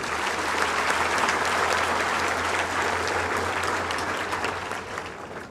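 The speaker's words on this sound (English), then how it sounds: "And you should applaud him for it." A crowd applauds steadily and loudly, a dense wash of clapping that holds for several seconds before easing off slightly at the end.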